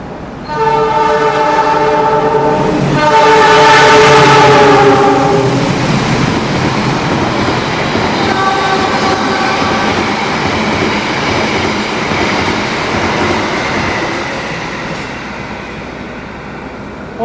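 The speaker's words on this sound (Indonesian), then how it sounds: "kereta api tambahan Jogja Gambir telah melintas" An additional Jogja–Gambir passenger train with stainless executive coaches passes at speed, its horn sounding loudly in long blasts at the start, followed by the sustained roar and rumble of the cars rushing by close, fading toward the end.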